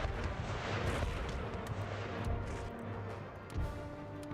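Distant booms and crackling volleys from musket and artillery fire in an Empire Total War battle at the Crimea landing, a continuous rumbling din with scattered sharper reports.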